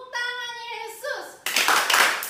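Children at an online Sunday school service clap their hands in a short burst near the end, right after a voice calls out a chant.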